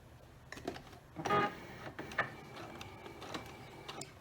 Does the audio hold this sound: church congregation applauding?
no